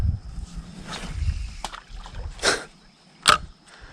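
A hand slaps the surface of shallow marsh water while snakehead fishing from a boat, a few sharp splashy smacks with one loud slap near the end, amid quiet sloshing.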